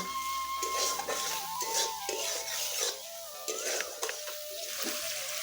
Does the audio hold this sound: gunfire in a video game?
no